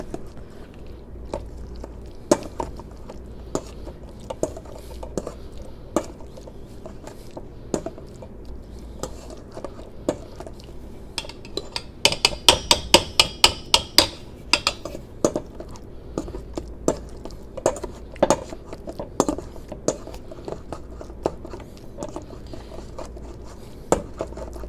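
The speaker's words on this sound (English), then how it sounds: "we're gonna start mashing until everything is nice and creamy and well blended" A masher works avocado dip in a bowl with repeated soft, squishy thuds and clicks, irregular at first, then a quick burst of rapid strokes, close and fairly quiet.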